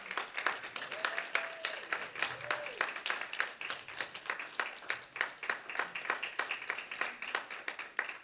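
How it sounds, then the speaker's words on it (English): An audience gives a round of applause to welcome a speaker onstage: a steady, dense patter of many hands clapping throughout, moderately distant, with a brief voice near the start. "Can we welcome with a round of applause Leah?"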